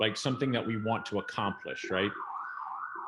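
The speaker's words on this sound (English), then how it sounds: "Sorry about the sirens." A siren wails steadily in the background while a person talks over it, then continues rising and falling alone as the speech stops.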